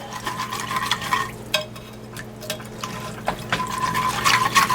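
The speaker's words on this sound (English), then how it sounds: "I'm going to whisk that into oblivion." Whisking a liquid mixture for a Woolton pie in a bowl, with brisk, scraping strokes in uneven bursts and short pauses, close and moderately loud.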